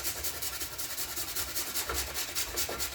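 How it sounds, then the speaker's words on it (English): An ingredient for egg roll filling being grated by hand in a home kitchen, a soft rapid rasping scrape repeating in a steady back-and-forth rhythm, close and quiet, with no talking. "So I'm just going to grate up some of this"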